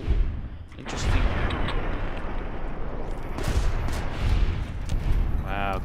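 Heavy booming explosions from bombs in Fallout New Vegas, a dense rumbling barrage of blasts with sharp cracks rolling over one another, loud and continuous, with faint game effects mixed in.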